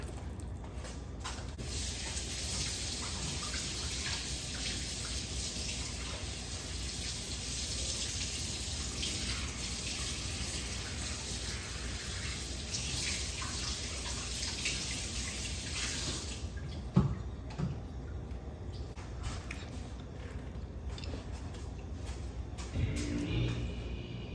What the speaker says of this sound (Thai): แล้วไปล้างทำความสะอาดก่อนค่ะ